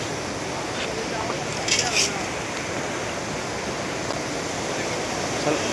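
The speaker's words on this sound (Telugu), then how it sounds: "వాటర్ చూడండి ఎంత స్పీడ్గా అయితే వస్తుందో వాటర్ ఫ్లో అయితే చాలా ఎక్కువ అయితే ఉంది" A continuous hiss of fast-moving flood water in a stream during a cyclone runs throughout at moderate level, with a couple of brief brighter splashes near the middle.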